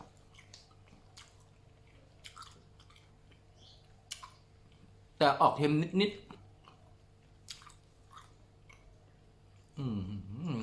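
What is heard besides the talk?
chewing konjac noodles, mala flavor snack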